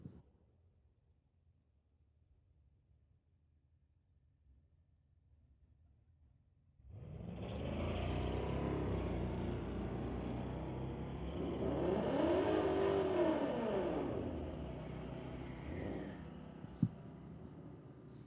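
A 1992 Chevrolet S10 and a Dodge Charger launch side by side at a Friday night street legal drag race at Mission Raceway, engines roaring up from quiet into a loud sustained rumble that rises and falls through gear changes, with no voices.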